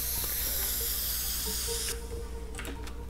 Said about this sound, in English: Where's my spray can?